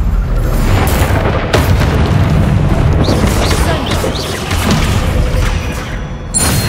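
Bombarda spell explosions in the game Hogwarts Legacy: loud, close booms and bursts crash repeatedly over a dense rumbling battle din, with sharp impacts around one and a half seconds and near the end, and some voice-like calls mixed in.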